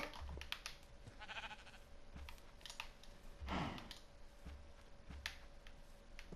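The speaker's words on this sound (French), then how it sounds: "Mouton." Sheep bleat in Minecraft on PS4 in short, faint calls spread through a busy stretch of game sounds and clicking, with one louder bleat in the middle and no voice heard.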